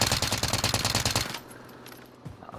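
Rapid automatic gunfire from the Milano submachine gun in a first-person shooter, a loud steady burst of closely spaced shots lasting over a second, then cutting off to quiet background with a faint thud.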